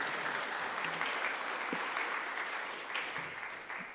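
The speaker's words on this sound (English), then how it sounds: "You can applaud." An audience at a high school Grade 10 prize-giving ceremony applauds the learners, a broad, continuous spread of clapping in a large hall that tapers slightly toward the end.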